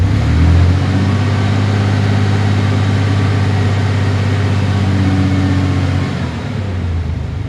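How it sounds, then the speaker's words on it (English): A 1999 Ford Ranger engine runs steadily and close by with a low, sustained hum, then eases off to a lower tone near the end as the throttle is let go. "I'll give it a little throttle, see what happens."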